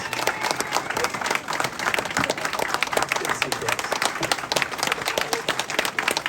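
A campaign event crowd in Iowa applauds a guest speaker with dense, energetic clapping that fills the room, while someone speaks briefly over the applause.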